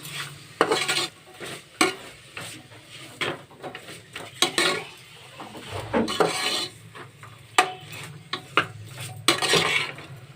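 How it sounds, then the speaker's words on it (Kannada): Vegetables and rock salt being sautéed in a pan for a three-vegetable palya, with a spoon scraping and clanking against the metal in irregular strokes over a soft sizzle, close and fairly loud with no talk. "ಹಾಕೋಬಿಟ್ಟು ಮತ್ತೊಮ್ಮೆ ಈ ಥರ ಚೆನ್ನಾಗಿ ಬಾಡಿಸ್ಕೋಬೇಕು"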